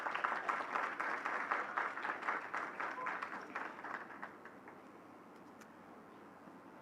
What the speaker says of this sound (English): And to our panelists, another round of applause,